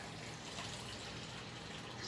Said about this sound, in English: Add a little bit of water to that.